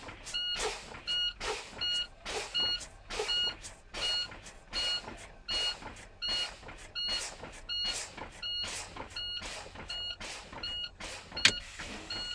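A truck's air brakes are pumped over and over until the valves pop out, making about seventeen regular, close bursts of hissing air with a sharp click near the end and no voices.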